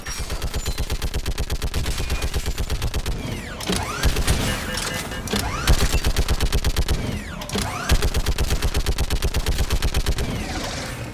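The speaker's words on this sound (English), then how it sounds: "Get on that gun up there and do some damage!" Mounted gun fired at enemies in the Mass Effect 3 video game, a rapid continuous stream of evenly spaced shots with brief pauses and mechanical whirring between bursts, loud and close with no speech.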